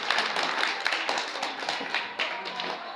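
Dense, steady applause from a crowd honouring Moussa Fofana at a diploma ceremony at a training centre in Goudiry, continuous clapping throughout with no voices on top.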